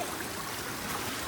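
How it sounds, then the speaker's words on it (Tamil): Floodwater streams steadily along a street during heavy rain in Chennai, a continuous close rushing wash with no gaps and no voices. "அழகா போகுதுப்பா தண்ணி."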